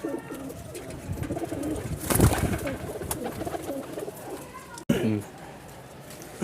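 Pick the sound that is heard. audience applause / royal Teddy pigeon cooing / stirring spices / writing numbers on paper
royal Teddy pigeon cooing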